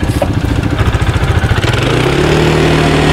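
A Dakar Rally motorcycle bogged down in sand, its engine loud and close with a throbbing, pulsing revs that settle into a steadier, rising drone near the end.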